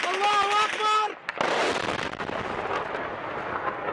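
Airstrike explosions hit a village in Idlib, Syria, where two schools were struck: a sudden heavy blast cuts through an earlier tonal whine, followed by a long rumbling, crackling roar that stays loud and dense throughout.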